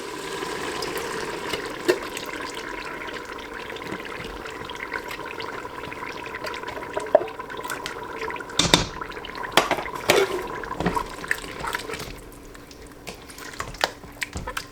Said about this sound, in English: I'm also going to be putting in some tomato sauce.